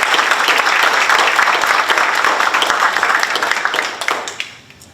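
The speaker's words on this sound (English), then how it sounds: "we owe another round of applause to our leader" An audience at a school address gives a round of applause, a thick crowd of clapping hands that holds steady, then thins and fades away near the end.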